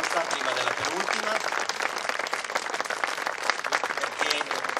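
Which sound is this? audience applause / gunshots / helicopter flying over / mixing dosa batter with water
audience applause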